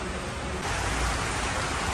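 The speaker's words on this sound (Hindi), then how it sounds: "देखो बारिश कितनी अच्छी हो रही है" Rain falls steadily during a trip in India, a dense even hiss with no voices.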